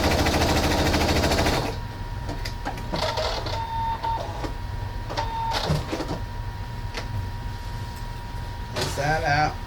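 A sewing machine runs zigzag stitches on a fabric face mask, with a loud rapid mechanical whir at first, then shorter bursts of stitching and clicks while a person talks over it.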